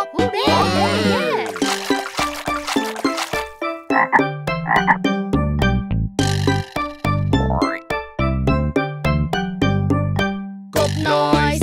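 Frogs croak in a Thai children's song about balloon racing, a dense, busy run of quick, bouncy croaks and boings mixed with music, some splashy effects and sung voices throughout.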